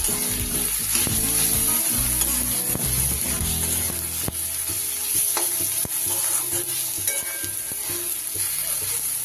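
Tomatoes fry with salt and turmeric for a masoor lentil tadka, making a loud continuous sizzle and hiss with stirring scrapes throughout. No one speaks.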